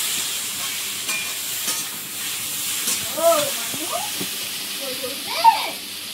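Water poured into fried taro with cumin and coriander powder sets off a steady hiss and sizzle in the pan, with a voice talking over it in bursts.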